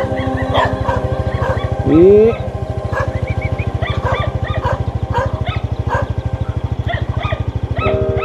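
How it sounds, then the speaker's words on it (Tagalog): Many dogs bark and yip, with a brief whimper, over a steady low pulsing rumble, while voices murmur in the background. "Daming aso."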